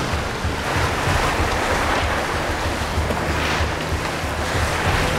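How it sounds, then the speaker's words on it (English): Big ocean waves roll and wash continuously at the finish of a sailing regatta race, loud and close, with heavy wind buffeting the microphone and boat noise mixed into the roar. "Big waves, it's an impressive finish for Goncalves."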